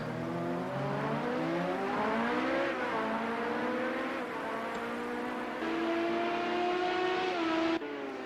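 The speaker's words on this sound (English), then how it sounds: "I can hear a car recovering at the moment." Race car engine in Project Cars 2 at Hockenheim GP, an LMP900 prototype, droning continuously as it accelerates with rising and falling pitch through gear changes, loud and steady, with no voices.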